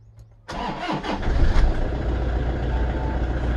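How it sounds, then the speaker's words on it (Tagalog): A car engine cranks briefly, catches and settles into a steady, rumbling idle. It is loud and close, with no voices. "start natin ngayon yung sasakyan"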